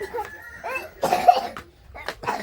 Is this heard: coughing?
yes